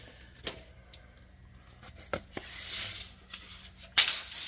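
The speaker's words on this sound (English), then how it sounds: "Grab my tape measure here" A tape measure is pulled out and used to measure inner lip to inner lip on a 1962 Oldsmobile Cutlass, with sharp clicks and ticks scattered across the clip, several short snaps, a brief rasp of sliding blade, and a louder click near the end.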